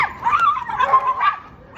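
A woman imitates a dog in a bark-off, giving a string of yipping, whimpering barks up close with brief pauses between them.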